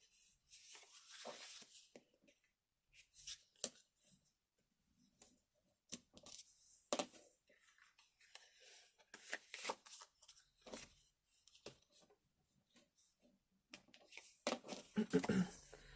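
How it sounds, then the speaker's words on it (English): Card folded along its score lines while making envelope cards: soft papery creases, rubs and crisp flicks come in scattered bursts, close and fairly quiet, with talk in between. "And then you're going to fold along your score lines."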